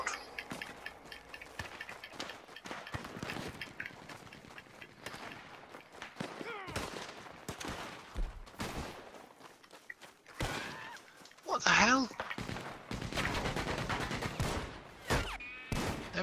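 Machine gun fire and scattered gunshots in Red Dead Redemption Online, moderately loud in bursts under intermittent talking by a player.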